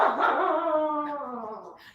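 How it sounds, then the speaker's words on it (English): A dog barks and whimpers close by in one drawn-out, whining yelp that tapers off, heard on its own without talk. "can hear the dogs in the background."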